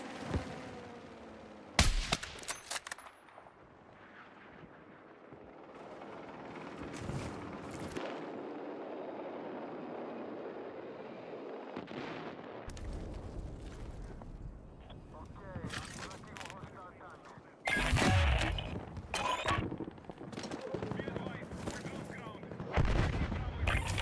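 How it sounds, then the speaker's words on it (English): Gunfire from a hostile machine gun in the video game Battlefield 6, with bursts of shots and explosive blasts coming in clusters over a continuous battle din, loud and close at times, with a voice talking over parts of it. "Hostile machine gun in sight!"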